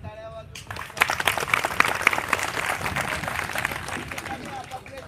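An audience at a protest gathering in Nashik breaks into applause after a brief voice, the clapping swelling quickly and holding steady before slowly thinning out.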